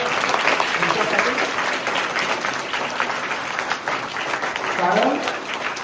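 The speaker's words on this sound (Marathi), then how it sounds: "तुमच्या सर्व शिक्षकांसाठी सुद्धा तुम्ही एकदा जोरात टाळ्या वाजवा" Students at a Student Day school gathering clap for their teachers, a broad burst of applause running the whole time while a voice speaks over it through a loudspeaker.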